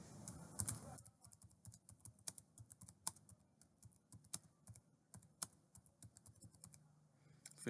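Typing a name on a computer keyboard, a sparse series of quiet, close key clicks at irregular intervals, preceded by a brief burst of faint voice at the start.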